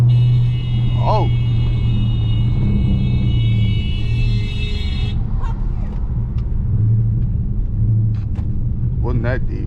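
Dodge Hellcat Redeye driven hard, its engine a loud steady low rumble throughout with road noise, while people talk and exclaim over it.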